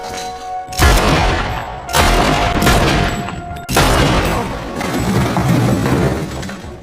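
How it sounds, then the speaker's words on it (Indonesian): Heavy bursts of gunfire erupt in a film shootout, several loud, dense volleys separated by short gaps, each with a sharp onset and a ringing, crashing tail. "terjadi baku tembak antara Sterling dan Cody"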